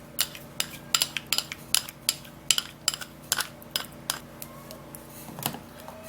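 A utensil clinks and scrapes against a bowl while Vaseline stretch mark treatment ingredients are mixed, giving a quick irregular series of sharp taps that is fairly close and continuous, with no talk over it.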